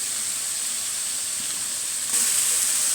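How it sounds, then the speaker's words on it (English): Nuts, pineapple chunks and vegetables cook in hot oil, giving a continuous bright hiss and sizzle that swells slightly louder toward the end. "vegetable fruits and nuts are cooking in the oil"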